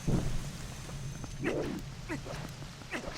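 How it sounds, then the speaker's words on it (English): Steady rain falls in The Legend of Zelda: Twilight Princess, a continuous hiss with a few brief higher chirping sounds over it, and no talking. "Wait, why is it now raining again?"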